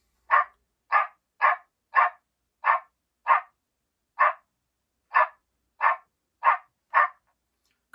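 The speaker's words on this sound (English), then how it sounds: "The second one is called Coyote Barks." A predator call plays a recorded coyote barking, eleven short sharp barks in an uneven series over eight seconds, each clear and isolated against silence.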